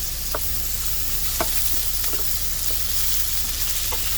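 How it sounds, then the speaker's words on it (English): Chicken pieces frying in grapeseed oil in a preheated fry pan, a constant loud sizzle broken by a few scattered stirring clicks and scrapes, close up with no talking. "I put some grapeseed oil in there. Of course, let the fry pan preheat."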